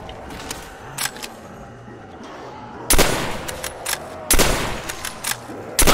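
Sniper rifle shots in a shooter video game, a few loud sharp cracks with ringing tails spaced a second or so apart, with fainter gunfire and clicks between them.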